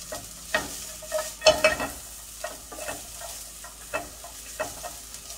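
Vegetables stir-fry in a hot pan, giving a soft, steady sizzle broken by irregular scraping and tossing of a utensil, fairly faint and close.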